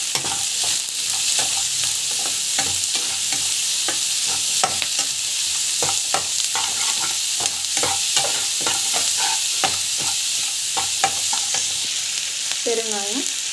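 Onion, garlic, mustard seeds, cumin, chana dal and salt sizzle in hot oil, a constant close frying hiss broken by frequent scraping stirs of a spoon in the pan, with no talk.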